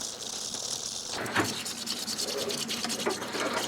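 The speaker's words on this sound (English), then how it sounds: "I'm going to dunk the whole board in there, and using a soft bristle toothbrush, I'm going to give it a little bit of a scrub" A soft-bristle toothbrush scrubs a Panasonic plasma TV circuit board dunked in isopropyl alcohol, producing close wet scratchy brushing with small liquid sloshes and a couple of sharper strokes.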